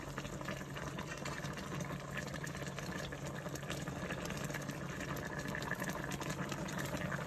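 Water running steadily from a kitchen tap while a spoon is rinsed during stew cooking, a faint, continuous splashing hiss with no talking.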